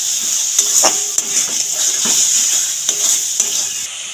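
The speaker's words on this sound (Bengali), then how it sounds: "চিংড়ি মাছটা দিয়ে কষে নেব মশলাটা দিয়ে।" Prawns stir-fried in spice masala in a pan for a jackfruit and prawn curry, a constant loud sizzle broken by repeated scraping and clinking of a spatula against the pan.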